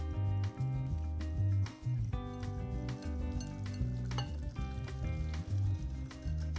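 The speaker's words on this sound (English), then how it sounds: "I'm going to whisk it very slowly into the egg yolk mixture" Hot vanilla-infused milk whisked slowly into an egg yolk mixture in a home kitchen, close and continuous with a rhythmic metallic clinking of the whisk against the bowl alongside a steady background hum.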